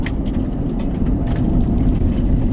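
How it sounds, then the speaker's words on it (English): A car rolling over a gravel road, a steady low road rumble from inside the vehicle with faint crunching and ticking of stones, continuous and moderately loud. "there's like gravel on this road. Do you hear it?"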